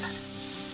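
Spice masala in a hot pan, with a spoonful of water just added while cooking a Gujarati val bean curry, gives off a steady, even sizzle that fills the whole short moment.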